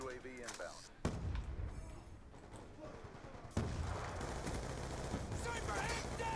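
Hipfire gunfire in Black Ops 2: a sharp report near the one-second mark, then a louder, dense burst of continuous automatic fire from about 3.5 seconds on. A voice is faintly present early on.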